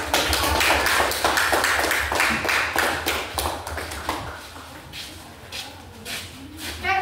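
A class of children applauds together in a classroom after a presentation, a dense run of hand claps that swells and thins over several seconds with voices mixed in beneath.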